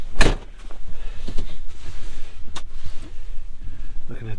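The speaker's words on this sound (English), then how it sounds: "Climb in here, shut the door." The cab door of a 2019 Kubota RTV-X1100C utility vehicle shuts with a solid thump near the start, followed by low background noise and a second faint clunk later on.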